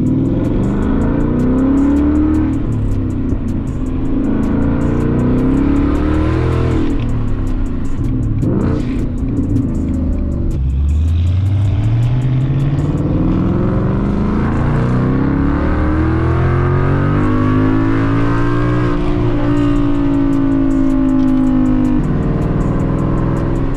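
An S550 Mustang GT 5.0 with MBRP exhaust and downpipes revs repeatedly, its loud, deep exhaust note sweeping up and falling back in long pulls, close and continuous.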